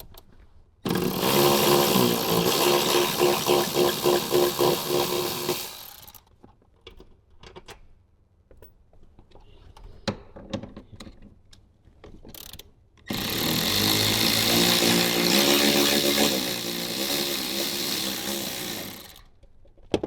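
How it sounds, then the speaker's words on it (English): A power tool with a 14 mm socket backs out the seat bolts in a Toyota Tundra in two long, loud, close bursts of whirring ratcheting. A quieter stretch of handling clatter falls between them. "We're going to go ahead and remove the 2 front seat bolts."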